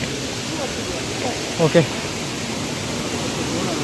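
A waterfall near Chikkamagaluru pours in a steady, broad roar heard from close by at the top of the falls, with a brief spoken word cutting through midway.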